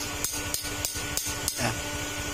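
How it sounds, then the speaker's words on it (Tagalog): A hammer taps a plastic washer inside a throttle body, giving five evenly spaced sharp knocks over a steady background hum, close and moderately loud. "tuktukan nyo to hanggang lumubog"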